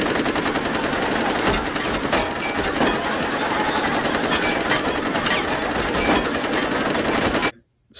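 Machine gun fire bursts out in a loud, continuous, rapid rattle of shots that carries on for most of the clip before stopping abruptly near the end.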